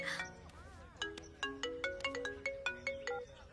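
An incoming call on a mobile phone sets off a ringtone: a bright, melodic electronic tune of repeating tones, played clearly with little else around it.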